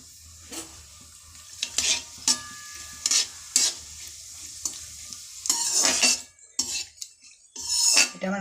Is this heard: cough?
no